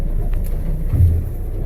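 A Hewescraft 22-foot white boat's engine set to troll mode, climbing toward 900 RPM: a steady low rumble that swells briefly partway through, with a faint wash of wind over it.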